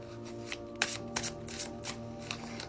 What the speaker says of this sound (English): So what I like to do is I'll shuffle the cards 3 times.